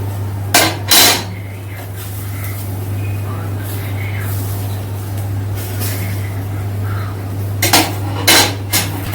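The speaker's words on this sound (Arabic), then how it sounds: "هنمسكها في الرغيف كده وهنسحب على طول" Grilled kofta being pulled off a metal skewer into a round of bread, heard as a few sharp metallic scrapes and clanks at the start and end over a steady low hum, no talk.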